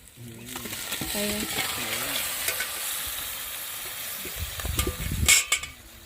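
Chicken pieces go into a pan of sizzling spice paste and are stirred with clattering utensil scrapes, the frying hiss steady throughout; a voice speaks faintly early on, and a louder clatter of metal comes near the end.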